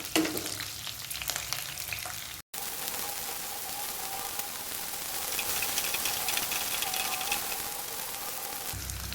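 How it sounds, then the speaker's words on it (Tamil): Steady sizzling of onion and garlic frying in oil, a continuous hiss close up with a brief dropout near the start and faint stirring. "வெங்காயமும் பூண்டும் நல்லா எண்ணெயிலே வதங்கி வரட்டும்."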